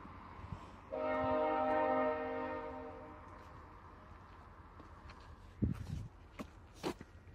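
A VIA Rail passenger train horn blows a long, fairly distant blast of about two seconds, followed by a few soft thumps and footsteps.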